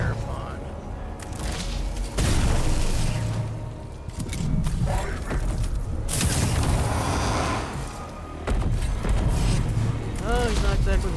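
Weapons firing in the video game Warhammer 40k: Mechanicus 2, heavy booms and cracking blasts in loud bursts across the clip, over game music and effects, with a voice talking throughout.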